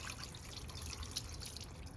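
Hot water from a household hot-water sprayer rinsing parts of a 1971 Honda CT70H, a steady close splashing and trickling hiss with scattered drips, running continuously.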